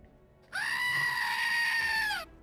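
A goat scream sound effect is triggered as a livestream chat redemption: one loud, sustained, bleating shriek lasting nearly two seconds, heard clearly on its own over faint background noise.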